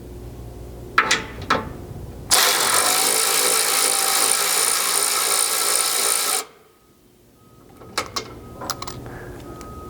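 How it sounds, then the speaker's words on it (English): A power tool works loose a bolt above the rear drive shaft of a Nissan Frontier, beside the fuel tank strap, with a loud steady whir of about four seconds between brief clanks and taps. "Lastly, remove this final bolt here, kind of just above the rear drive shaft and behind this fuel tank strap"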